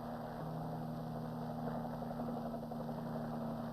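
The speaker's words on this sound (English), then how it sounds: "Three hours later, an Arvin helicopter landed." A steady mechanical drone of an ARVN helicopter engine and rotors during the Vietnam War, constant and fairly close, with a low hum holding throughout and no voices.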